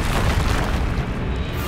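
A Bombarda spell blast in Hogwarts Legacy, a loud dense booming explosion with rumbling low end that rolls on continuously for under two seconds, close and heavy, with no talking.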